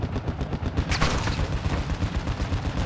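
Enemy gunfire in the shooter game Call of Duty DMZ on the Ashika map, sustained rapid automatic shots hammering loudly and close, one sharper crack standing out about a second in, no talking.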